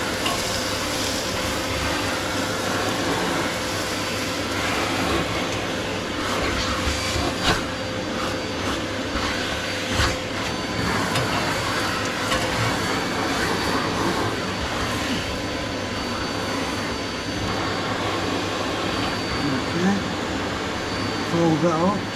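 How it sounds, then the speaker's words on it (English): A vacuum cleaner runs steadily, sucking up soot from a dust sheet after cleaning and inspecting a Tarry Nestor Martin stove; a loud, even motor drone holds for the whole stretch with little change. "I'm just going to put the vacuum on again just to recover the soot"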